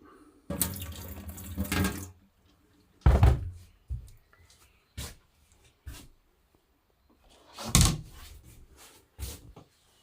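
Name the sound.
water running into a small sink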